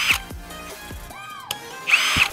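An HL Premier 818 cordless brushless drill set to speed 1 for drilling wood gives short whirring bursts at the start and end, with spindle spin-downs, clicks and quiet gaps between them.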